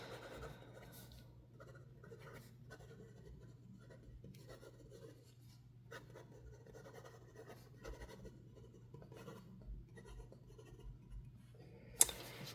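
A Montblanc Brothers Grimm Writers Edition fountain pen writes on paper with faint, soft scratchy strokes in short, irregular bursts, close and quiet over a low background hum.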